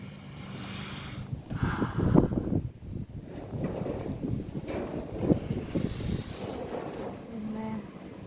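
Strong wind buffets the microphone in a continuous low roar during a thunderstorm, with louder gusts swelling and easing throughout.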